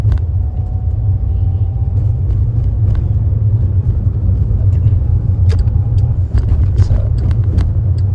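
A car engine rumbles low and steady while the driver brakes with the gear still engaged, a constant, close drone with a few faint clicks over it.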